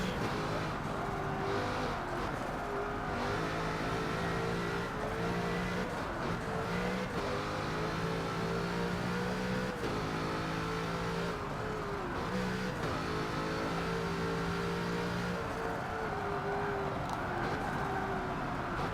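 A Bugatti Chiron engine in the racing game Forza 7 runs loud and steady throughout, its pitch climbing and dropping through repeated revs and gear changes, with no talk over it.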